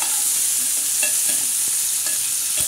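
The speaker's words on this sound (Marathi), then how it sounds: "चांगलं हलवून घ्यायचं।" Tempering for moong dal fry stirred in a hot pan, a bright steady sizzle with soft scraping strokes of the spoon every half second or so, close up and alone.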